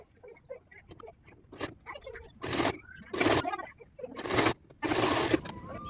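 A sewing machine stitches along the folded edge of a blouse piping, running in several short bursts that stop and start, with quieter pauses between runs.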